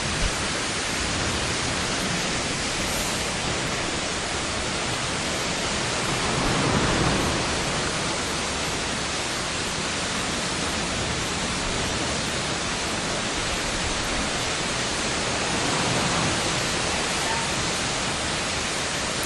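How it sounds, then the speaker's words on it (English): A waterfall rushes with a dense, unbroken hiss of falling water, steady and fairly loud throughout with faint swells, and no voices. "if you would listen to that waterfall over there"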